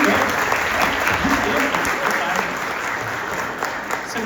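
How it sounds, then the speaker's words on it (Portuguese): An audience at a talk about MeuStory.TV's growth strategy claps loudly and steadily, a dense, sustained applause close by for the whole stretch. "Mais uma salva de palmas para o Bruno"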